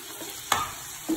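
Chopped onion, a green chilli and curry leaves dropped into a hot pan and frying, giving a brief soft sizzle with one sharp stirring knock midway, close and quiet.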